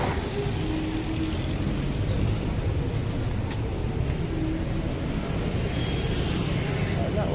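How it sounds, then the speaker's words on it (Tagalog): A vehicle passing on a busy street in Cubao: a steady, close engine rumble and road noise that fills the whole stretch with no clear rise or fall. "Ay, dumadaan na sasakyan."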